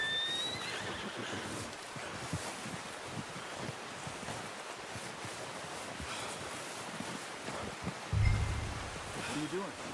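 In Red Dead Redemption 2, a horse gives a short whinny and snorts amid outdoor ambience of wind and distant surf, with soft hoof clops and a low thump near the end.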